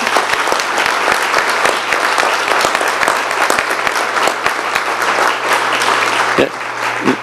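Sustained, full applause from an audience at a drug-awareness presentation, honoring two women, with a few sharp individual claps standing out over a low steady hum.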